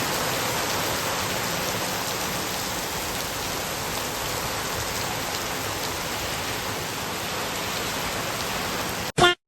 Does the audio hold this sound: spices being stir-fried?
no